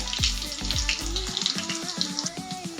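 Garlic and cumin seeds fry in hot oil for a tempering, giving a close crackling sizzle with sharp pops and clinks of utensils against the pan, steady and lively throughout with no talking.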